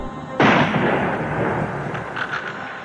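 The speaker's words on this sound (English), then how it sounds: "a second explosion echoed through Dealey Plaza" A single loud rifle shot cracks out in Dealey Plaza, its blast rolling into a long reverberating echo that fades slowly across the open space.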